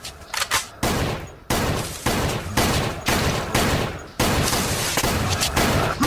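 Loud bursts of video-game gunfire aimed at zombies, a string of sharp volleys about every half second to second with brief gaps between them, with no voices over it.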